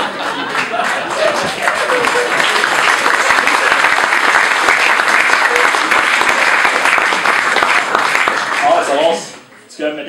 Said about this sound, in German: ganz grossen Applaus